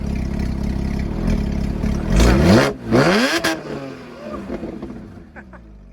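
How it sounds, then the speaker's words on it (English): Porsche Cayman S 987.1 with an aftermarket full exhaust, revving loudly nearby: a steady idle swells into two sharp throttle blips that rise and fall, then settles back to a rumble. "Definitely sounds different."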